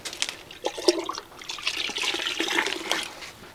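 About 1.25 litres of water is poured into rubber latex, a soft, uneven splashing and trickling that sits close and fairly quiet, with no talk over it.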